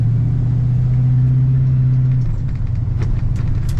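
A 1953 Ford F100 truck drives along, its engine holding a steady, close, loud low hum before shifting and settling into a rougher rumble with faint rattles.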